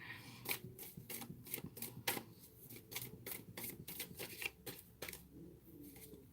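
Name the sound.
shuffling tarot cards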